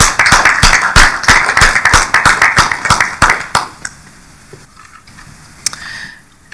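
A small audience at a conference on the history of the press claps for a speaker. The crisp, distinct claps come rapidly for about three seconds, then taper off into a few stray claps before near quiet.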